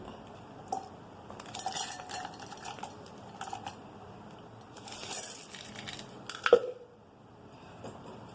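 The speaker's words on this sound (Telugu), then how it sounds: "మూత టైట్గా పెట్టుకొని మనం ఇలా అంటే అన్నీ కలిసిపోతాయి" A snack mixture rattles and crunches inside a tightly lidded container as it is shaken, in several bursts of clattering with a sharper knock near the end, nearby and fairly quiet.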